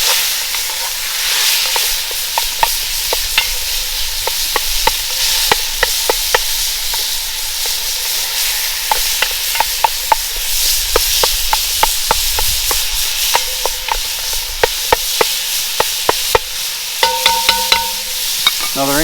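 Ground meat sizzles loudly in a hot cast-iron Dutch oven over an open campfire, a constant frying hiss broken by repeated scraping and stirring clicks of a utensil against the pot.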